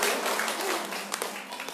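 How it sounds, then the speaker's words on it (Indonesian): Audience applause for the speaker Bu Lilis at an indoor parenting seminar, a steady dense patter of many hands clapping at moderate loudness throughout, with no talking over it. "Ibu mungkin boleh tepuk tangan yang lebih keras lagi untuk Bu Lilis."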